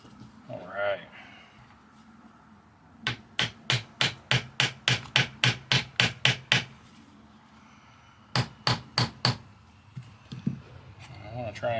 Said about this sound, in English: But I do need this weird looking hammer.